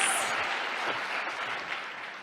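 An audience claps loudly and continuously after a live music performance at an annual celebration, a dense wash of applause that fades slightly toward the end.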